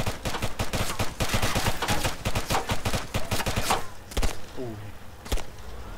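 Rapid gunfire in Arma 3 Altis Life, a dense burst of sharp automatic shots for several seconds, followed by a few isolated single shots and a metallic clatter.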